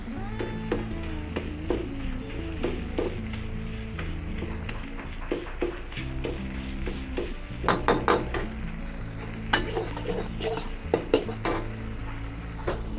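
Spicy fried rice is broken up and stir-fried in a pan, with a soft continuous sizzle under repeated scraping, tapping and clinking of a spatula against the metal, quieter at first and busier later, no talking.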